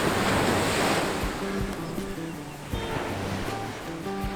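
Surf rolls steadily onto a beach at Surin or Kata in Phuket, Thailand, a loud, continuous wash of breaking waves with wind noise, faint tonal sounds over it and no one speaking.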